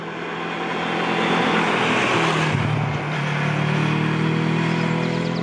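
Motorbikes setting off on a ride into the New Forest: a loud, continuous engine roar close by that swells and shifts in pitch as the throttle is worked, with no talk.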